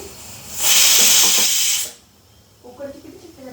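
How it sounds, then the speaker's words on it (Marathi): Steam shoots loudly from a pressure cooker whistle for about a second and a half, then cuts off. Household noise and a voice follow at a lower level. "किती शिट्टी झाली कुकरच्या?"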